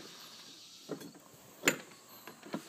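A Yamaha Banshee ATV's kick starter is pre-kicked with the choke held out, giving a few quiet, spaced mechanical clunks and ratchety clicks with one sharper snap near the middle.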